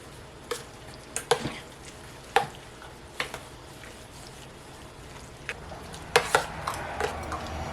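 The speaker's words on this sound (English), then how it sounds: "let's stir it up some" Brown sugar is stirred into pumpkin butter in a cooking pot, making soft scraping and occasional light clinks of a spoon against the pot at an irregular pace, quiet and close with no talking.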